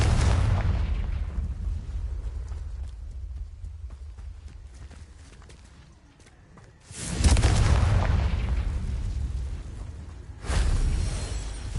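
Confringo blasting spells explode in Hogwarts Legacy, a heavy rumbling boom at the start that fades over several seconds, then a second loud blast followed by a third burst, each with deep low rumble and crackling debris.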